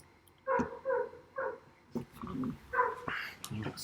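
A dog barks several times close by, sharp repeated woofs spaced unevenly with short whimpering yips between them.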